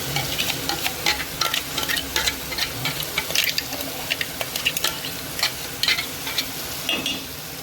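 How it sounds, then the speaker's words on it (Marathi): Masala tipped onto sautéed tomato in a pan, sizzling steadily while a spoon scrapes and stirs in quick irregular strokes, loud and close with no voices. "आपण हा असा छानसा असा मसाला केलेला आपण याच्यामध्ये टाकून घेऊया सगळा"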